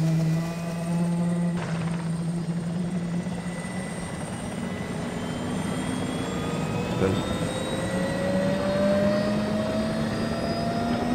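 A military helicopter thunders nearby with a loud, continuous rotor drone and a rising engine whine at an airsoft field exercise, while people talk over it.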